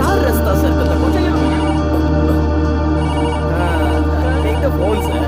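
A telephone rings insistently in an office, its repeating electronic bell pulsing over a constant low hum while faint voices murmur in the background.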